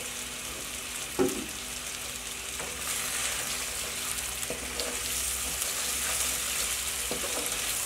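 Mutton frying in oil in a karahi over a high flame, a steady soft sizzle with occasional clinks of a utensil, fairly quiet and with no talking.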